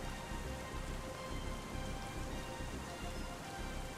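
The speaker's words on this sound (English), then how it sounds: "That sounds like a lot of rain." Steady, dense rain from the Farming Simulator 25 video game hisses continuously with a faint low rumble beneath, even and unbroken throughout.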